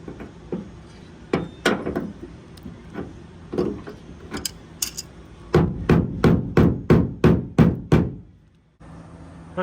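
Repeated hammer blows on metal on a 2023 Chevy Colorado, irregular at first, then a quick run of about eight sharp, evenly spaced strikes close by before a brief silence.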